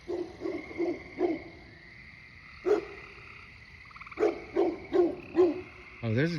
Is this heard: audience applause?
no